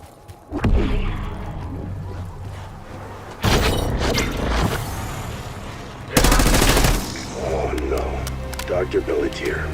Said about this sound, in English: I'll take some shots though.